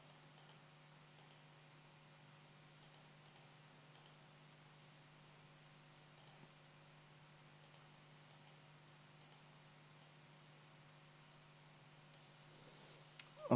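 A computer mouse clicks sparsely and faintly while someone works in LabVIEW software, a few soft, isolated clicks spread over a low, steady electrical hum in a quiet room.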